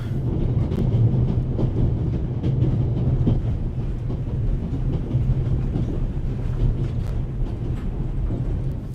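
A moving train in The Raven video game rattles steadily, a continuous low rumble with rhythmic clacking and metallic knocks that carries on without pause.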